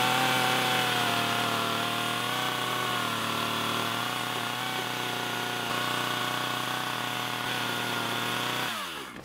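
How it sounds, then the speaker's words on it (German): A power saw cuts notches about 5–6 mm deep into wood for rain gutter hooks, running loud and steady for nearly nine seconds before stopping abruptly. "als nächstes säge ich jetzt hier meine Rinnhaken ein"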